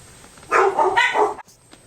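Dogs barking indoors in a short, close burst of two or three yips, then the room falls quiet.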